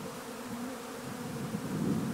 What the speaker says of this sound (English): These bees are getting used to a lot of new things here.